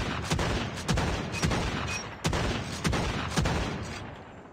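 An MK2 carbine rifle fires in Call of Duty Mobile in a loud, close series of sharp shots. They come in rapid pairs and bursts, each crack trailing a short echo, with no voices.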